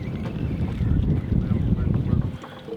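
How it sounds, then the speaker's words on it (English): Wind buffets the microphone on an open fishing boat off Venice and Breton Island during a tournament, a loud, steady low rumble with gusty swells and no talk. "Wind's blowing how it is."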